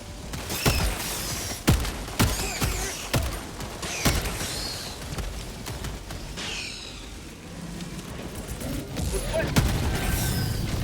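Rapid-fire pistol shots from the Helldivers 2 shooter game, a burst of sharp cracks early on followed by scattered shots, mechanical clanks and rumbling battle ambience.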